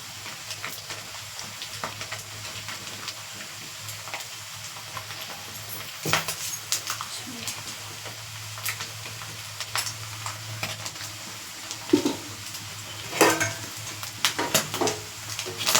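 Chicken pieces for chicken pickle fry in a pan, a steady sizzle with intermittent scraping stirs and occasional utensil knocks against the pan, close and moderately quiet throughout, no voices.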